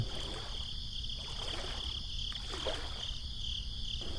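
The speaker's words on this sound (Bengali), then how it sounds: "বিমল গুনগুন করে নৌকা চালাচ্ছে" A wooden boat is rowed in a cartoon: faint, soft water strokes sound over a quiet night background of steady insect chirping, with no talk.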